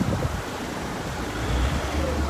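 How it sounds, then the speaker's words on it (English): Wind buffets the microphone in a steady low rumble on a main street in Oranjestad city centre, Aruba, with a broad rushing roar like surf beneath it, fairly loud and continuous. "it's so windy"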